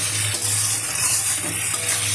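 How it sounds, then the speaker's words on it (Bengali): Onion, green chilli, a piece of ginger and beans fry together in a pan with a continuous close sizzle and soft stirring scrapes. "এক টুকরো আদা পুড়ে দিয়েছি, আর শিম একসাথে ভাজা হচ্ছে"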